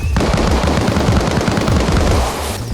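Machine gun fire in the military shooter Arma Reforger: a loud, rapid, sustained burst of automatic shots, close and unbroken for over two seconds.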